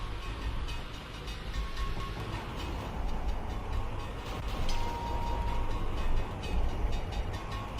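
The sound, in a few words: train passing in Hot Wheels: MechaniX video game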